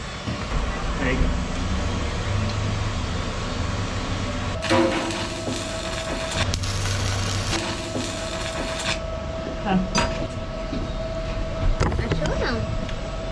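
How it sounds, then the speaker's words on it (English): Sanding on the hull of a wooden sailboat under rebuild is heard from inside the bow locker as muffled, scratchy bursts of varying strength, with longer stretches in the middle, over a steady background hum. "you can hear the sanding is already going on outside."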